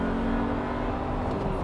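A Volkswagen Amarok single cab diesel pickup revs hard under acceleration, a loud, steady engine drone heard close from inside the cab.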